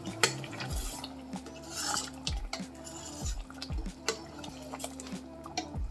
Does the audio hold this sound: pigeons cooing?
no